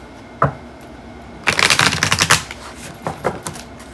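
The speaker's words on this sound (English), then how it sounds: "Can you give it a couple of more shuffles?" A deck of cards shuffled for a tarot reading, a sharp riffle burst in the middle with a few quieter flicks before and after, close and alone.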